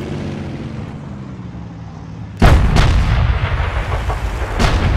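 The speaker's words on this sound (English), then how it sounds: "I love the gun sounds with this sound mod." Tank cannon fire in World of Tanks with a modded gun sound: a sudden loud booming shot followed by rumbling echo and a couple of lighter reports, after a quiet engine-like hum.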